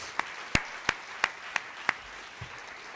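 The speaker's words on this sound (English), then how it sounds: "let's give them all a round of applause" A handful of sharp hand claps at an awards ceremony, evenly spaced and fairly close, trailing off into quiet room noise.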